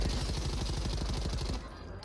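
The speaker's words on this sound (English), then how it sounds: "Oh, I'm getting sniped at." Rapid bursts of gunfire in a Call of Duty Warzone Plunder match, loud and close with dense repeated shots for about a second and a half before dropping to a quieter rumble.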